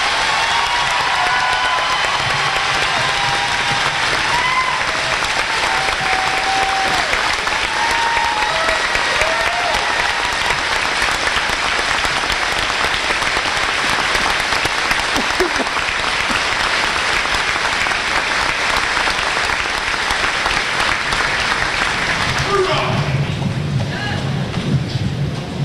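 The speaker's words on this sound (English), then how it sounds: "These are the students of the Armed Forces for the class of 2015. Please give them your applause." Sustained, loud applause from a large crowd at a 2015 high school graduation ceremony honoring armed forces students, dense and continuous clapping with some cheering, easing off near the end as a voice begins.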